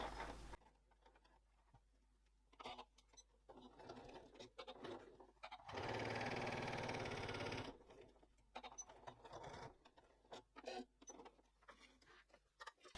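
A sewing machine stitches a pocket on a cork wallet, first in short, quiet bursts with pauses, then in one steady run of a couple of seconds, then in short bursts again, close up and faint overall.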